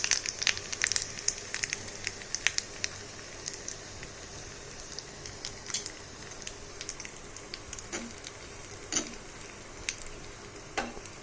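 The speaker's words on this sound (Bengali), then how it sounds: "এবার আমি দিয়ে দিলাম জিরেটা ভালো মতো ভাজা হলেই আমি এই ফোড়নটা" Whole cumin and a pinch of asafoetida tempering in hot oil for a pressure-cooker dish, giving a steady close sizzle with crackling pops and a few stirring scrapes, no voices.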